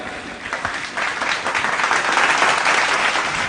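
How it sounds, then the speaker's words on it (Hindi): An audience at a Human Rights Day event bursts into applause. The clapping starts moderate and swells into a steady, full round that carries on to the end. "जोरदार तालियां।"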